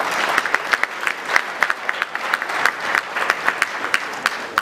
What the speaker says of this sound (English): ladies and gentlemen, I think they deserve a round of applause for the questions asked